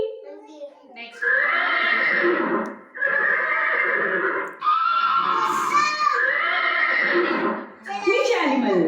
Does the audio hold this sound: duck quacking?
no